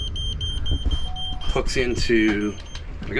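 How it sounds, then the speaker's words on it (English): A GPS zone alarm on a docked sailboat beeps steadily in the background while a person talks over it. "So you hear that really annoying beeping?"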